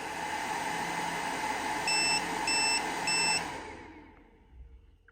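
A LiFePO4 portable power station sounds a steady high electronic alarm tone with three short louder beep pulses over it, then the tone stops and the clip falls nearly silent.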